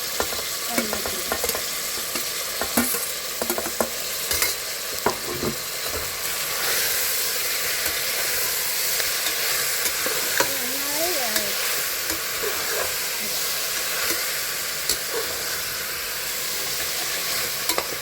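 Green chilies and tomatoes with coriander leaves sauté in a hot pan, a long steady sizzle and hiss with occasional stirring scrapes and small pops, close by, without speech.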